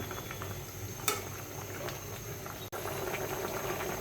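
Pabda fish and pointed gourd curry simmering in a pot, a steady low bubbling that stays even throughout, with one brief sharp knock near the middle.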